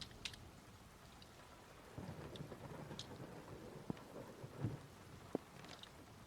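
Faint rain patters steadily in a video game, with soft low thunder rumbles rolling under it and a few brief sharp drips or taps, quiet and distant throughout.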